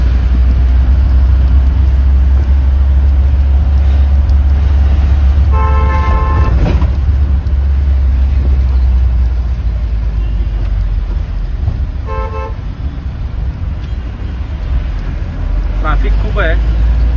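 Heavy Mumbai road traffic heard from inside a Bolero near Powai: a constant low engine and road rumble, with several short car horn toots breaking through at intervals.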